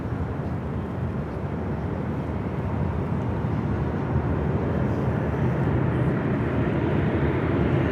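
A Boeing 737-700 departing LAX for Las Vegas makes a steady, broad jet roar that holds level and builds slightly, with no voices over it.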